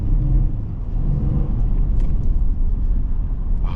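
A Ford F-150 XLT pickup's engine and exhaust rumble deeply and continuously at close range, a loud, steady low drone throughout.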